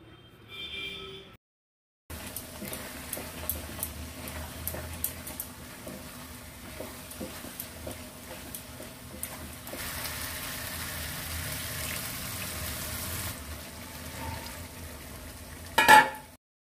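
Chicken gravy cooking with spice masala as it is stirred and fried in a pan, a steady low sizzle with scattered scraping stir ticks running throughout, quiet and close, ending in a brief louder clatter.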